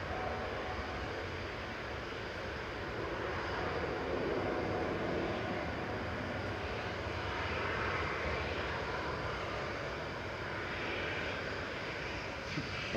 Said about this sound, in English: A bright plane in front of us.